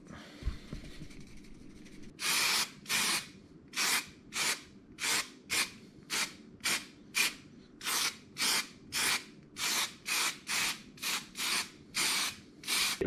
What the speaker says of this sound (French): je prends de la néoprène en bombe